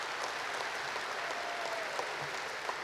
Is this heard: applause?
yes